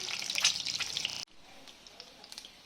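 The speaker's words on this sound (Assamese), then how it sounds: "ডিমকেইটা বহুত বেছি ডিপ ফ্ৰাই নকৰোঁ, অলপমান এটা কালাৰ অহালৈকে মই এইকেইটা ভাজি ল'ম।" Eggs shallow-frying in hot oil for chicken dakbanglow give off a bright, crackling sizzle that carries on steadily, then cuts off abruptly, leaving a quiet kitchen with faint clicks.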